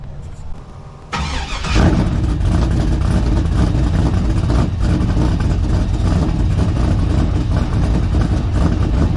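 A 6.5 Detroit Diesel in a truck starts up and settles into a loud, steady running rumble, close by, with no talking over it.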